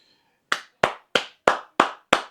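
Six sharp hand claps ring out close and crisp in a steady rhythm, each sounding alone with short gaps of silence between them.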